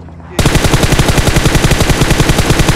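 Automatic gunfire in PUBG Mobile, a loud close burst of rapid, evenly spaced shots that starts abruptly after a quiet moment and keeps hammering without pause.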